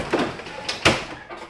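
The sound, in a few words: fridge pull-out drawer sliding open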